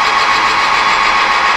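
A machine tool runs at 1,000 RPM taking aggressive cuts, giving a loud, steady broadband roar with no breaks over a brief stretch.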